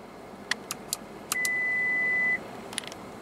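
A Toyota Tundra 1794 Edition's power rear window runs as a steady electric motor whine for about a second, framed by scattered button clicks and soft taps inside the 2014 truck's cab.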